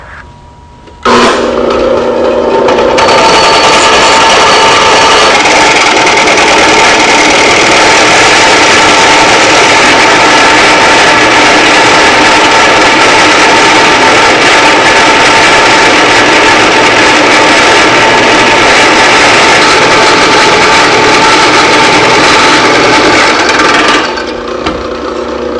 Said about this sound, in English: The hole saw has a center drill, and it will follow that pilot hole.